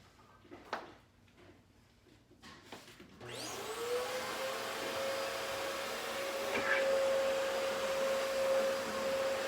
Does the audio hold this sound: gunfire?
no